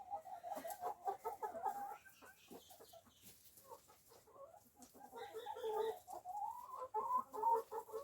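Backyard hens in Melbourne cluck and murmur close by, soft repeated calls rising and falling in short bursts with brief pauses between.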